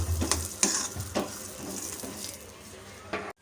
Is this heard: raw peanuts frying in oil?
yes